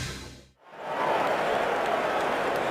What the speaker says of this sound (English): Well, this crowd is charged up.